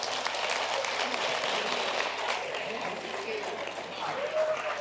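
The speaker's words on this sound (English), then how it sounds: "can we please give him a round of applause?" Audience applause at a live interactive session with an LGBTQI+ society, steady dense clapping throughout with a faint whistle near the end, fairly loud and continuous.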